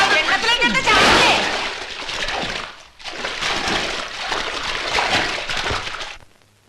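A person jumps into water in a comedy movie scene, making a sharp close splash followed by sloshing and turbulent water noise, with voices shouting over it.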